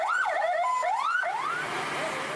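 A fire engine siren wails loud and close, sweeping up and down in quick repeated cycles before the tone slides away, with traffic noise underneath.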